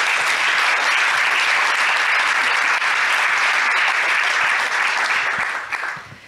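A conference audience at a talk supporting the Iranian people applauds loudly and steadily, a dense wash of many hands clapping that holds evenly and then fades away at the end, with no speech over it.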